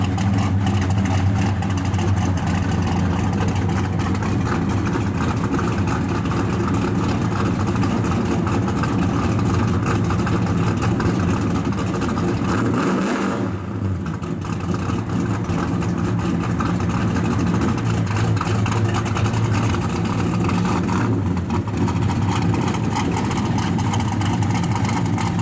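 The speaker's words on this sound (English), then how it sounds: "Good sounding car." A 1965 Chevrolet El Camino resto-mod engine idles and rumbles continuously with a deep, steady low tone, loud and close, with a brief dip midway.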